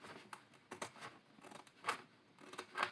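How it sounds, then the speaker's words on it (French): Scissors snip through material while a storage box is being made, with a series of short, crisp cuts at an irregular rhythm, close and fairly quiet. "j'ai pas pris les bons ciseaux"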